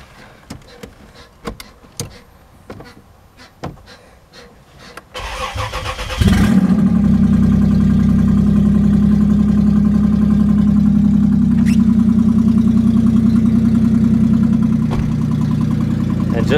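Hotwired Honda Passport engine cranks briefly and catches, then settles into a loud, steady idle that runs on for about ten seconds, preceded by scattered clicks and handling noises.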